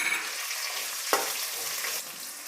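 Chopped onions fry in hot oil with curry leaves for tomato bath, a loud, close, continuous sizzle with one sharp stir or scrape partway through.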